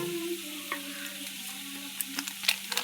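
Spice paste with bay leaf, turmeric, cumin and coriander powder sizzles softly in a pan, with a steady low hiss, faint tonal hum, and scattered stirring clicks and scrapes growing more frequent near the end.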